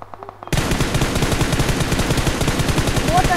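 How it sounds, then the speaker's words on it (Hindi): Sustained rapid machine-gun fire in the battle-royale game PUBG, a dense loud burst of evenly spaced shots starting abruptly after a brief quieter moment and continuing to the end. "फायरिंग हो रहा है"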